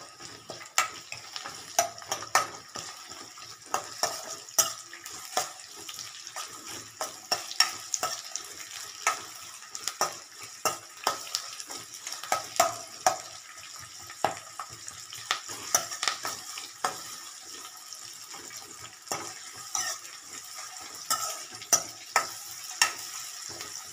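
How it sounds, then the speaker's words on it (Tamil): Green chillies and curry leaves sizzle steadily in hot oil for a Tamil dal dish, a dense crackling hiss punctuated by frequent sharp pops and spatters, with occasional stirring scrapes and no voices. "இது நல்லா எண்ணெயில் வதங்கணும்."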